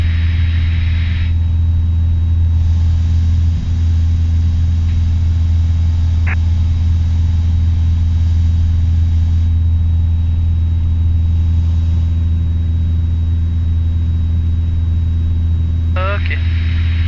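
Piper PA28 light aircraft engine droning steadily in cruise flight at altitude, a loud continuous low hum filling the cabin throughout, with faint cockpit chatter over it.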